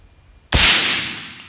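A single loud, sharp gunshot from a short-barrel truck gun with a 6.5-inch barrel, cracking close by after near silence and leaving a long, bright ringing tail.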